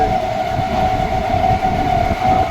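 A passenger train pulls away and rolls on toward Mayapur, a loud, steady rumble of wheels and carriages with a droning whine above it, close and continuous throughout.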